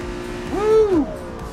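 A Cadillac Blackwing's engine screams at high RPM, around 8,700, as it overtakes another car, a rising and falling whine swelling to a peak mid-pass and fading, fairly close with no talk.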